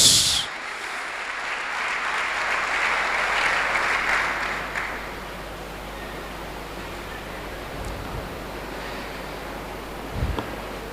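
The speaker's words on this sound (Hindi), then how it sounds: "यीशु मसीह के लिए जोरदार तालियां" Loud applause from a church congregation during a Hindi-Urdu Pentecost sermon, a dense wash of clapping that swells for about five seconds and then fades into quiet room noise.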